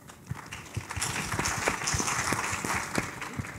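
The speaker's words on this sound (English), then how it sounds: "maybe a round of applause for my panelists" A conference audience applauds the panelists in a hall, with steady, moderately distant clapping and sharp individual claps standing out, fairly quiet overall.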